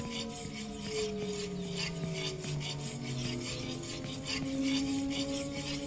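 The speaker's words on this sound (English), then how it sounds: "Why do you sound like a sword being unsheathed?" Raspy metallic scraping like a sword being drawn from its sheath, heard in a fantasy video game with skeleton enemies. It is loud and continuous, with repeated gritty strokes over sustained, gliding musical tones.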